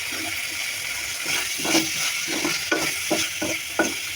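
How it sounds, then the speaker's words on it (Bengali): Leafy greens sizzle and crackle in a hot pan as they are stir-fried, with a steady hiss and several distinct stirring scrapes near the end, close up with no voices. "এখন শাকগুলো দিয়ে দিব ভাজি।"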